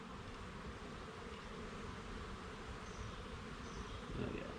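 Honey bees buzz steadily inside an opened hive fed with a pollen patty, a dense, continuous close drone with no talking, swelling slightly louder near the end.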